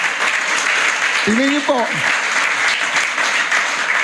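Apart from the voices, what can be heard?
congregation applauding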